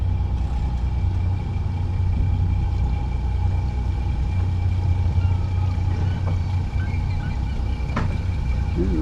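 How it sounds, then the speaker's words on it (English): The engine of a Hinckley 35S sport boat rumbles steadily and close by as it manoeuvres to dock, a low continuous drone with a faint tonal whine above it. "Okay, let's see where he's going to dock it."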